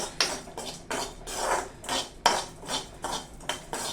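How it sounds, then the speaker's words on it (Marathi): Masala spice mix for wedding-style masale bhat is dry-roasted in a pan, heard as repeated metallic scraping and clinking of a spoon against the pan in quick irregular strokes, close and clear with no voices. "हा मसाला मस्तपैकी भाजून घेऊया"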